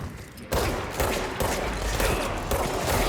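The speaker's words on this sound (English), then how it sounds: "I wonder if I can shoot their legs." Gunshots in the game Control: a dense, crackling volley of shots with heavy reverberation, starting abruptly and pulsing on in repeated waves, loud and close, with no one talking.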